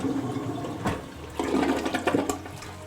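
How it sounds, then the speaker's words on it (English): A home toilet with a possible fill problem flushes, close and loud, with a rushing swirl of water that surges and gurgles as the bowl drains, with no voices. "Simply by flushing the toilet, it will give us a good indication of how well they're working."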